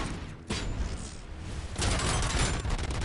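Grenade explosions and gunfire from a PS5 shooter game, with a sharp blast near the start and a heavier, sustained burst of booms and crackle in the second half, loud and close.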